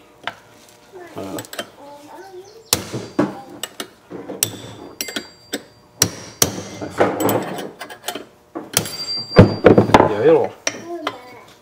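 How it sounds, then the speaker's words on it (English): Sharp metallic taps of a hammer on a punch while replacing a chainsaw oil pump, a handful of irregular strikes with pauses, close by, mixed with handling clatter and some talking. "I'm going to take my hammer and my punch. I should just have to tap this a couple times."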